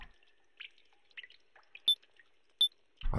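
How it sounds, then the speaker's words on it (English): Water drips in a video game, Your Turn To Die: a few sparse, clear drops and small plinks spaced irregularly against near silence, ending in a burst of louder noise. "Why do I hear that dripping sound?"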